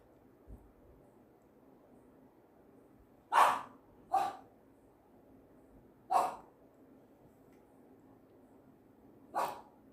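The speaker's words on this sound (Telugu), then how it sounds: "మా కుక్క అరుస్తుంది" A dog barks four times, sharp and spaced, at a moderate distance in a quiet indoor room, with a faint low hum between the barks.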